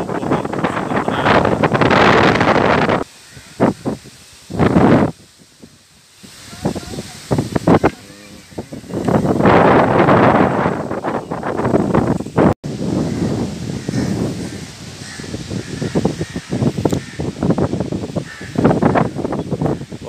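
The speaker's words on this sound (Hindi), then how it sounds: "तेज हवा चल रही है" Strong gusts of wind blow through a botanical garden park in Lahore, buffeting the microphone in loud roaring bursts that come and go with brief lulls between them.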